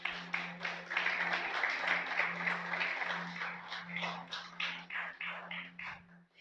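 Church congregation applauding in a Spanish-language service, a dense, steady patter of many hands that thins into scattered claps toward the end, with a low steady hum beneath.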